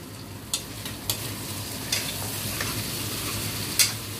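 Steady sizzle of food frying in a pan, with occasional sharp pops and crackles over a constant hiss.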